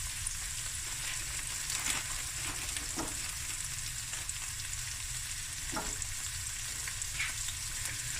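Leftover basmati rice and spinach frying in a pan give a steady, close sizzle with a few soft stirring scrapes, and no voices.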